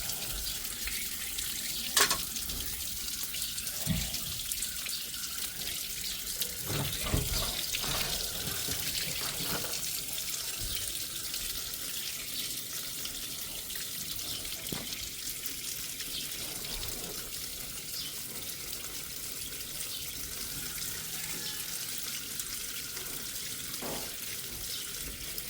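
Water running steadily from a water heater drain being emptied onto concrete, a continuous gushing flow with occasional knocks and clunks, moderately close and without talk.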